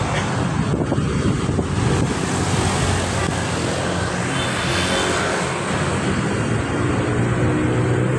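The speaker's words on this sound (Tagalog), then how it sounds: "Traffic dun sa kabilang way, kalsada going to Ortigas, yan yung ano, madalas matraffic." Road traffic streams along a busy road heading to Ortigas, a loud, continuous roar of passing vehicles mixed with wind buffeting the microphone.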